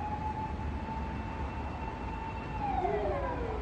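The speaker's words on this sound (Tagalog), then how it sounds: "Ambulance, ambulance, ayan na." A wailing siren with a steady tone that then sweeps downward, heard from a moderate distance over traffic rumble.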